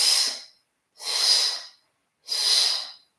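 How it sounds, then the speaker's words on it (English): Three deep, forceful breaths during a Pilates workout, each a loud, close, airy rush about half a second long, separated by short silent gaps and with no talking. "Big breath in."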